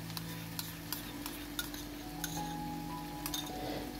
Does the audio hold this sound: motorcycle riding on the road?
no